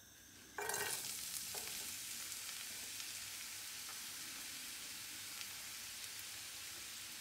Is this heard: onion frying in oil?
yes